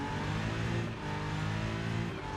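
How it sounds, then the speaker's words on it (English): Race car engine in the sim racing game Rennsport, droning steadily and loud with a dense harmonic growl and slight revving throughout. "let's try and drive the car normally, or like we usually would do."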